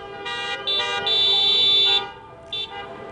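Car horns honk together during a drive-by Honks for Hugs parade past a retirement community in Rio Rancho, with overlapping blasts, one long sustained toot and a short honk after, over a background of rumbling traffic.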